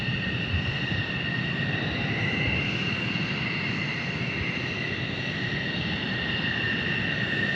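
Southwest Boeing 737-700 airliner on final approach into Tucson, a steady broadband engine roar with a sustained whine, holding constant loudness throughout at a middle distance with no talk.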